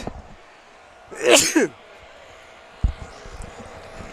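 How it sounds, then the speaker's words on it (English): A single sharp, loud sneeze bursts out close by against a quiet room, followed by a faint rustle. "I officially sneezed in bunches there"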